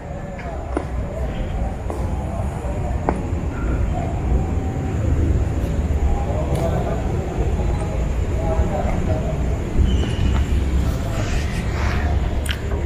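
A train on the Rail Clinic set rumbles past steadily and loudly for the whole stretch, a continuous rolling roar with occasional clanks and squeals.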